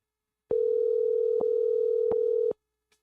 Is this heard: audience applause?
no